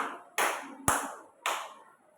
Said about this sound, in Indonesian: tepuk tangan 5 kali tepuk.